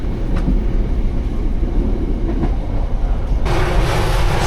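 An Indonesian passenger train near Malang rolls along, heard from inside its onboard toilet as a loud, steady rumbling roar that swells into a harsher hiss toward the end.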